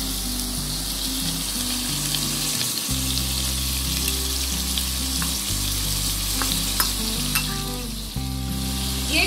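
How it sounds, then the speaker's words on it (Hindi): Jaggery being melted into syrup with a little water in a pan, a loud steady sizzle with occasional stirring scrapes over a constant low hum, no voices. "अभी हम ये गुड़ जो रखा है इसका सिरप बनाएंगे, तो इसके लिए थोड़ा सा पानी चाहिए।"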